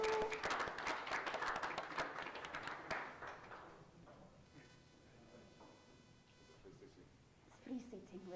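Audience applause for panelists coming to the stage at the MTN Media Innovation Summit 2024, a dense burst of clapping over the first few seconds that fades to scattered claps and room noise, with a voice heard briefly.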